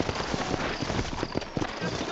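Horse hooves clip-clop on a dirt town street in the Red Dead Redemption video game, a quick run of steady hoof strikes under continuous ambient noise.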